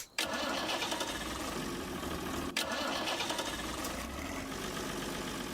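A rough-running engine on an abandoned combine harvester fitted with a new battery idles loudly and steadily for several seconds, with a brief dip partway through.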